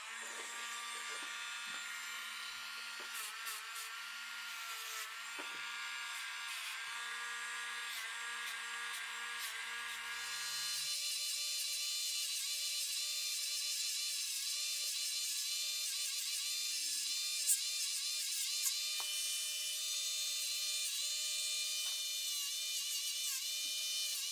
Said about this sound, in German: genau da poliere ich jetzt einfach noch ein bisschen nach an diesen Stellen